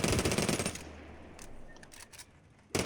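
Rapid automatic weapon fire in the video game Hawked, a dense burst of shots up front that cuts off and gives way to a few faint scattered pops and a quieter tail, with a final loud burst at the very end.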